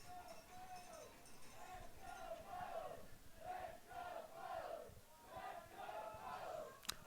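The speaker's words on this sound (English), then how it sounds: "Let's go Bows chant going up from the Tufts crowd." A Tufts crowd at an NCAA men's soccer tournament match repeats a rhythmic three-beat "Let's go Bows" chant, rising and falling in a steady cadence from a moderate distance, with a sharp click at the very end.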